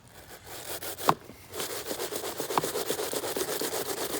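Golf 4-iron scrubbed in a ball washer, a close, rhythmic, brushy rubbing that starts after a couple of sharp knocks and carries on steadily.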